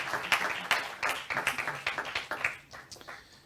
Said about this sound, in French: Un grand merci, bravo, on peut applaudir.